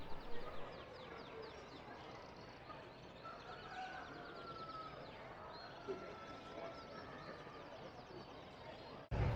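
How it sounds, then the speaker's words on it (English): Small caged birds for sale at the Expointer agricultural fair make rapid high twittering chirps that run continuously through a noisy indoor crowd hubbub. "on the other side here you've got small birds, which I guess are for sale"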